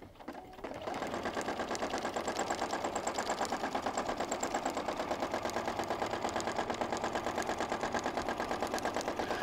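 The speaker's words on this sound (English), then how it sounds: "I'm actually not gonna be spinning the quilt as I'm working under the machine." A home sewing machine free-motion stitching through a quilt sandwich with the needle running fast and steady, a dense rapid mechanical chatter that holds a constant pace from start to finish after a brief ramp up.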